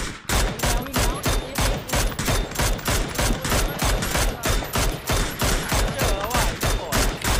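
Rapid bursts of automatic gunfire fill a PUBG match in a steady, loud, rhythmic barrage of repeated shots, close and continuous throughout.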